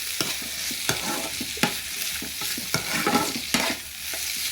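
Tomatoes and green chillies fry in a pan under a steady sizzle, with a spoon scraping and stirring in sharp strokes about every second, close and fairly loud.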